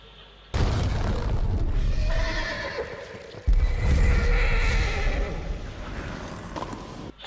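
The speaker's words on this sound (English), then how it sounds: "And you never see Odin's 8-legged horse ever again" A horse neighs loudly, Odin's eight-legged steed in a Thor film, with a whinny over rumbling booms and hoof clatter, then a second loud burst of rumble and neighing that slowly fades.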